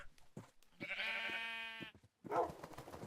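A sheep in a video game lets out one sustained, nasal bleat, clear and close, framed by short clicks and game noises before and after.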